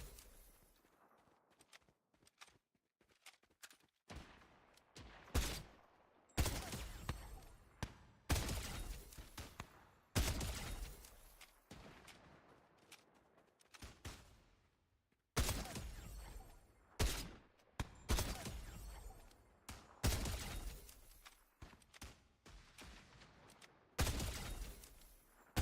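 Video game gunfire from sniper practice during a playtest, sharp loud shots in irregular bursts and single cracks spread through the clip, with short quiet gaps between them.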